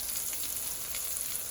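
Sweet potato and tuna patties fry in a pan with a steady, even sizzle, heard close and alone with no talk over it.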